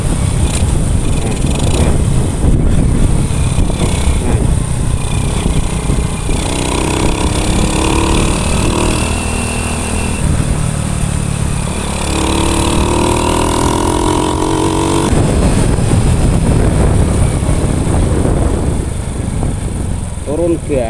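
A Honda Supra X100 motorcycle engine, which dies when the throttle is released even though fuel flows fine, runs loudly and close with a steady mid-pitched churn, shifting as the throttle changes, while someone talks over it throughout.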